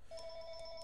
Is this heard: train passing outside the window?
no